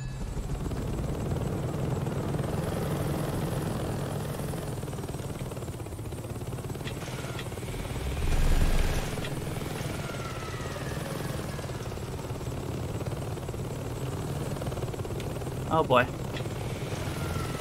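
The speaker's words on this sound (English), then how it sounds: "Conveniently placed helicopter." A helicopter in the Saints Row 2 video game keeps up a steady, droning rotor and engine roar through the whole stretch, with a brief louder thump midway and someone talking over it.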